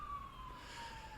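Emergency vehicle sirens sound from the street as a faint, distant, steady high wail held alone throughout, with no talk over it.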